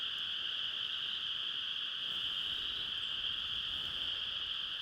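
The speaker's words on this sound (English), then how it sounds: "But aren't those frogs loud?" A loud, steady chorus of frogs croaking outdoors, heard during a ride on an electric bike, forms a continuous dense drone that fills the whole stretch with no talking over it.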